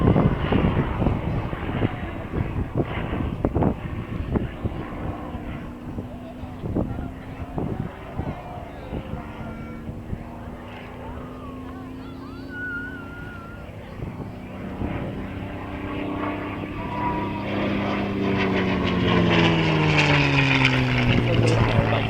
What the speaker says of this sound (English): It was further developed and it became the P-51 Mustang.